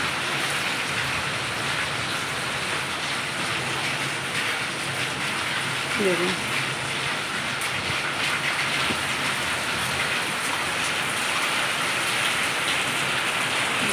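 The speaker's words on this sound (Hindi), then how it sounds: "एकदम बरस गई बारिश। पानी की आवाज़ सुनाई दे रही, कितनी तेज है" Heavy monsoon rain pours steadily in Jaipur, a dense continuous roar of water striking surfaces throughout, with a brief spoken word partway through.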